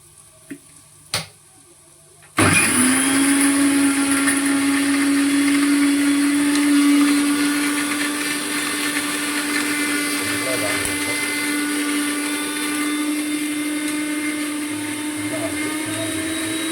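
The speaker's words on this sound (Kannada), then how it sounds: "ಸ್ವಲ್ಪ ಗಟ್ಟಿ ಇದೆ, ಇನ್ನೊಂದು ಸರಿ ಮಿಕ್ಸಿಗೆ ಹಾಕಬೇಕು" An electric mixer grinder grinds peanut powder with a loud, sustained motor drone that starts abruptly after a few quiet clicks and runs steadily to the end.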